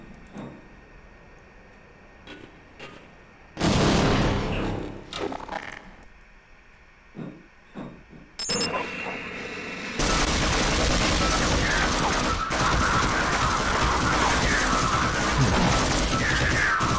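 Gunfire taking down turrets in Half-Life, with a loud burst of shooting early on, scattered sharp mechanical clicks, then a long continuous roar of rapid fire through the final seconds.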